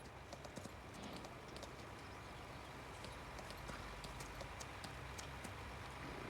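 A horse in Farming Simulator 19 walks along, its hooves producing a steady, faint clip-clop rhythm over a low ambient game background.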